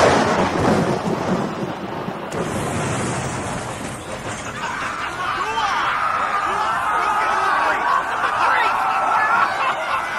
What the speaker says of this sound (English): Wonder Woman, the lightning! It's going to hit...